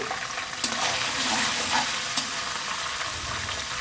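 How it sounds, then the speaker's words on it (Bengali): Cardamom, cinnamon and bay leaves spit and crackle in hot oil in a pan for a rohu fish head ghonto, a steady near sizzle with a few small pops, without voices. "এই কষানো তেলে আমি এই যে দুটো এলাচ, দুটো দারচিনি আর দুটো তেজপাতা দিয়ে দিলাম"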